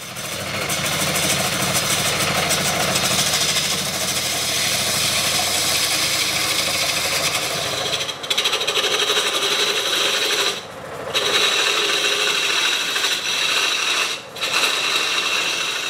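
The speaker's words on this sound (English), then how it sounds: "We are mounted on the lathe." A wood lathe spins a bowl blank with a dark lava-look swirled finish, giving a continuous mechanical drone and rumble with a few brief dips and breaks near the end.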